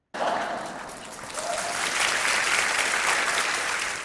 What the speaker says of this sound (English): I wish that didn't get an applause.